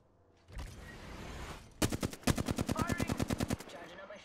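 Rapid automatic gunfire from a shooter video game, a steady burst of about twenty close, loud shots in quick rhythm, preceded by a rougher rumble and shuffle.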